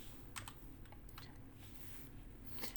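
Soft, fast keystrokes on a computer keyboard while TypeScript code is entered, a quiet irregular patter of clicks over steady background hiss.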